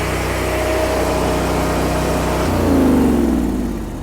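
A DeWALT DXGN14000 commercial generator engine running steadily loud and close, then its pitch climbs as it revs back up from idle before easing off slightly, with no voices present.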